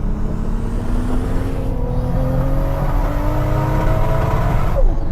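A 1,000 horsepower Toyota Supra with a tuned 2JZ engine accelerates hard, its close, loud engine note climbing steadily in pitch through the gears with no talk over it.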